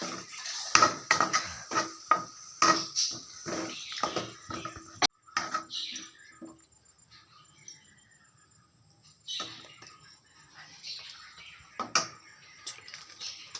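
A metal spatula clinks and scrapes against a pan while onions and spices are sautéed and stirred. Quick clattering strokes come close together at first, then turn sparse and softer, with a few sharp knocks later on.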